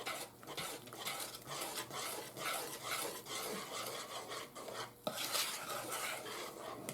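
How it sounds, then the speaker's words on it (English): Mashed bananas are beaten for pancake batter, giving a steady run of rhythmic scraping and squishing strokes against a bowl, close and fairly quiet, with an occasional sharper knock. "beat your bananas until they're really smooth"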